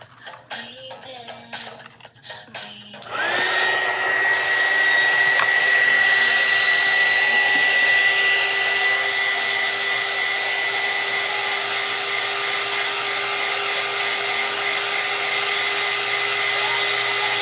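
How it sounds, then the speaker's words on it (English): A hair dryer blows onto a wet craft piece, switching on abruptly after a few seconds of quiet handling noise and then running loud and steady with a high whine to the end. "I am blow drying it so we can work on it and get that dried."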